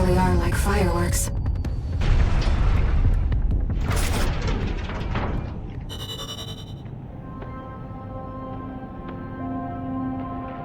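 Heavy explosions in the mech combat game Armored Core VI. Loud, booming blasts crowd the first half, then ease into a steadier ringing, tonal bed.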